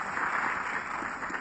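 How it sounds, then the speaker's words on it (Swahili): A crowd at a funeral service claps for an honourable guest, producing a brief, steady wash of applause at moderate distance. "Makofi kwa Mheshimiwa tafadhali kidogo."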